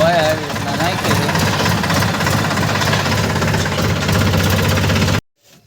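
A farm tractor engine runs steadily at close range during cotton and sorghum field work, a loud continuous knocking drone with a brief rising tone near the start, cutting off abruptly near the end.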